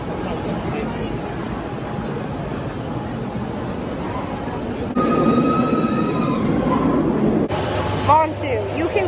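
A Bolliger & Mabillard roller coaster, Montu at Busch Gardens Tampa Bay, rumbles and roars past in a long, loud, broad rush that swells midway, with people talking nearby and a brief shrill whistle near the end.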